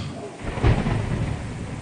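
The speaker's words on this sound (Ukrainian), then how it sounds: "Ви чуєте грім?" Thunder rolls in a low, distant rumble with a soft swell, a rain-like hiss underneath and no voices.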